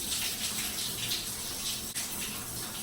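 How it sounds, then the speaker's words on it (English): Steady running water from a tap or shower pouring continuously while hair is being wetted, close and full, with no talking. "I'm gonna wet this side as well."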